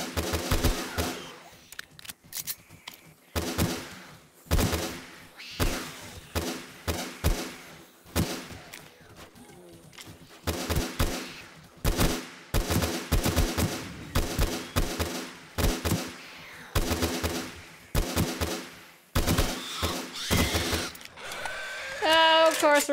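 Rapid automatic gunfire in the survival video game Darkness Falls, loud bursts of repeated shots in uneven strings with short pauses, someone talking over parts of it.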